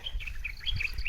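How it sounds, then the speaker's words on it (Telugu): Small birds chirp in a forest after rain, several high, bright tweets repeating in quick irregular bursts over a soft, steady background. "ఇక్కడ పక్షులు పిట్టలు చాలా బాగా అరుస్తూ ఉంటాయి."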